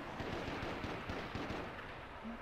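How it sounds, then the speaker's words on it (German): Rapid gunfire rattles through a battle royale match in H1Z1, a dense continuous burst of shots sounding somewhat distant and muffled across the whole moment, with no voices. "Ich höre Schüsse"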